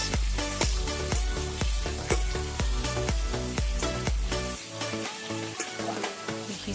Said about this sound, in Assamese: বহাই দি হেতাৰে ভালদৰে গোটেই মাংসখিনি এবাৰ লৰাই দিছোঁ।